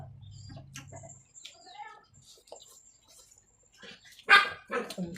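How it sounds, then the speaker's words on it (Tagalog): A dog barks a few times at moderate distance, the loudest barks coming near the end, with faint birds chirping and quiet background in between. "Kumatahol na."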